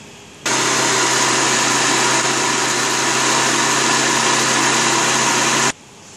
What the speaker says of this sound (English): You're just gonna cover your blender and blend